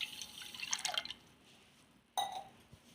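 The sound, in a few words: pouring a tumbler of water into a glass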